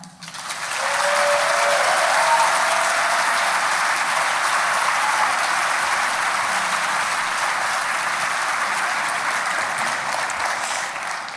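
Dense, steady applause from a large audience at the Toronto premiere of Vita & Virginia, welcoming director Chanya Button to the stage. It swells quickly after the first half-second and holds at full strength, close and loud.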